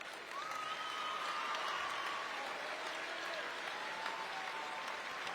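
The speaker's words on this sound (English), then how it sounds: "round of applause by both teams' fans here as she goes to the bench" Sustained applause from fans of both teams at a girls' state high school basketball game as an injured player heads to the bench, steady and moderately distant across the arena, with faint voices mixed in.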